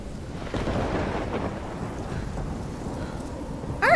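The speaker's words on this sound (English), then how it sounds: "I've never seen a storm like this in Oregon." Thunderstorm in the video game Life is Strange, with a low rolling rumble of thunder over steady rain and wind that stays loud and continuous, with no talking.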